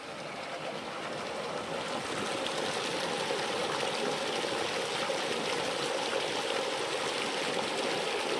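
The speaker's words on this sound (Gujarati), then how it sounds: "અત્યારે કાઢિયામાંથી પાણી જાય છે" Steady rushing irrigation water flows continuously through a farm channel, a broad even hiss of running water close by with no pauses.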